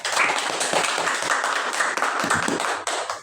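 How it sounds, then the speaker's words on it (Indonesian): Seminar audience at a teachers' orientation event gives a burst of applause, many hands clapping in a dense, steady patter that fills the room for a few seconds. "Pemaparan orientasinya boleh diberikan aplaus"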